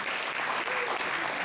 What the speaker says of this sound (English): And give yourselves a round of applause for being here.